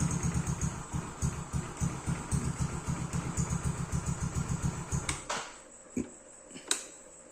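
A motorcycle engine ticks over in a rapid, even pulsing rhythm at close range, then cuts out partway through, leaving a couple of sharp clicks in the quiet.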